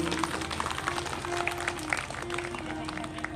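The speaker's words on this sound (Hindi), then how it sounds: "एक बार जोरदार तालियां हमारे पवन दा के लिए।" Audience applause for a guest at a musical Shrimad Bhagavat Mahapuran katha gathering, steady dense clapping mixed with crowd murmur and a held tone underneath, fairly distant.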